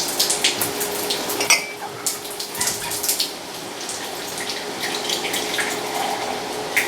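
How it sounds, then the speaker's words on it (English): Hot water spitting and sputtering out of copper lines on an all-grain homebrew setup, a loud, continuous hissing splatter with irregular sharp bursts and drips throughout. "That's just all the water that's extra in the copper lines. That heat, the heat hits it and boils it, and it just shoots it right out."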